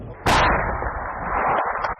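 A single heavy artillery explosion hits suddenly and rolls away in a long, fading rumble, sounding far off, in a war zone during a ceasefire.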